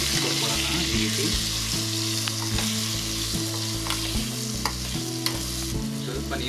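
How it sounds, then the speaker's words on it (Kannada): Raw mango palya with Kashmiri chilli powder and salt is stirred in a sizzling pan, a steady frying hiss with repeated spatula scrapes against the metal, close and continuous. "ಮಿಕ್ಸ್ ಕೊಟ್ಕೊಳ್ಳೋಣ ಈ ರೀತಿ."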